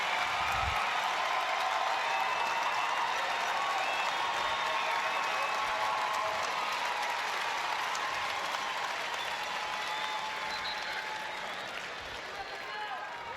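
A large stadium crowd of over 6,000 at a Seattle women's soccer match applauds a substituted player leaving the field, a broad, sustained wash of clapping and cheering that holds steady and eases slightly near the end.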